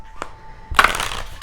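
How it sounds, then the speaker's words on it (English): Tarot cards shuffled by hand during a collective energy reading: a faint tap, then a loud riffling burst of card noise that keeps on briefly, close by. "I'm still going to shuffle because I want you guys to see that"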